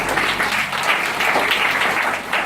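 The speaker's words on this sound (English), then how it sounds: "So please clap for this effort." An audience at an English club speech event claps steadily, a dense continuous applause from many people with no talk over it.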